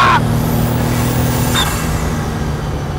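Formula Ford EcoBoost race car engine droning steadily and fairly close, a sustained low hum with a short tonal whine near the start and another around halfway, with no speech.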